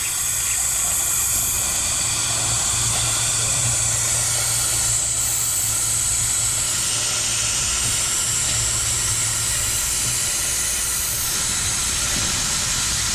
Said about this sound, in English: suck it up with the brake bleeder.